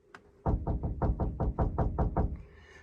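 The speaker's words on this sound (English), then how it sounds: "Oh, someone's at the door." A caravan door is knocked on: one light tap followed by a rapid run of about ten firm knocks in an uneven rhythm, close and distinct, with faint talk at the very end.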